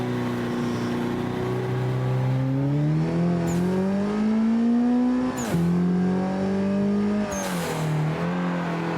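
A race car in Assetto Corsa drives continuously with its engine droning and climbing through the revs, broken by three quick gear shifts, loud and close without any talk.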